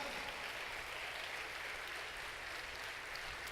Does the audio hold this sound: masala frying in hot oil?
no